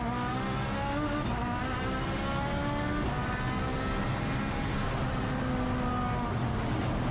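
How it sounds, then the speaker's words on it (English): Four-wheel drive time attack race car braking hard and paddle-shifting down through the gears, a constant loud engine roar with stepped pitch changes heard from a distance. "Hard on the brakes now, pulling it up, paddle shifting back to second and third."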